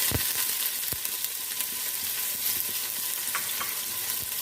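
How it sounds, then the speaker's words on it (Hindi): Finely chopped onions fry in hot oil, with a loud, continuous sizzle and crackle up close, punctuated by a few sharp pops and stirring knocks. "प्याज ऐड कर देते हैं गरम ऑयल में।"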